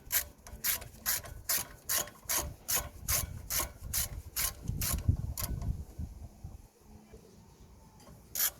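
A ratchet clicks in a quick, even run of about twenty sharp ticks, then pauses and gives a few more near the end, as screws are tightened on a Kia Ceed rear brake, close up and with no talking.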